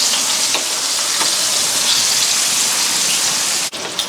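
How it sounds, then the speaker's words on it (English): Taiwanese pork chops fry in a pan with a loud, dense, continuous sizzle and crackle. The sound holds steady, then briefly cuts out near the end before resuming. "So fry that for another 5 to 6 minutes."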